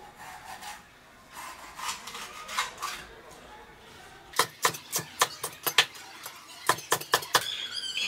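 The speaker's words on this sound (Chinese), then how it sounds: "咱们把配菜给它切一下。" A knife cuts side vegetables such as green pepper, onion, cilantro, small chilies and garlic on a board for a beef stir-fry. Soft scraping comes first, then a run of sharp, evenly spaced chops, close and clear.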